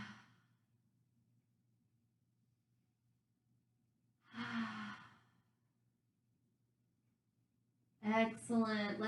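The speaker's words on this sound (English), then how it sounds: "let's take 3 long and steady breaths here" Two long, slow breaths during a yoga twist, each a soft airy exhale separated by quiet pauses, the second more voiced like a sigh, over a faint steady hum.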